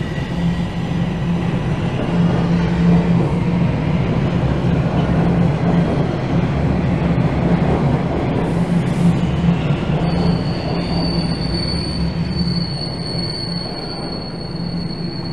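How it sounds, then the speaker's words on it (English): A southbound Toronto Line 1 subway train at Wellesley station rumbles steadily with a constant low hum and rattling, and a thin high-pitched wheel squeal rises near the end. "That was a southbound Line 1 train I was on."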